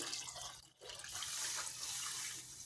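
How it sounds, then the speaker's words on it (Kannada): Water pours steadily into a container, a continuous splashing rush with a brief pause near the start, close by and fairly loud. "ಆ ನೀರನ್ನು ಇದಕ್ಕೆ ಹಾಕ್ಕೊಳ್ತಾ ಇದ್ದೀನಿ"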